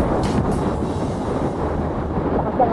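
At night on a road, strong wind buffets the microphone, producing a continuous low rumbling roar with uneven gusts throughout the few seconds.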